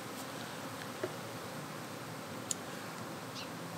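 Honey bees from an open-air hive being removed drone in a dense, steady buzz close by, with a few faint ticks and individual bees passing near.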